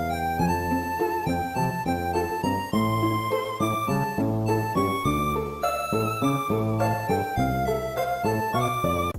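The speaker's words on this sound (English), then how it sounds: "Here's how the original sample sounds." Chiptune-style melody from the original Pokémon Sapphire soundtrack plays alone, with bright layered synth tones, a steady bass line, and a busy rhythmic pattern at full, even loudness throughout.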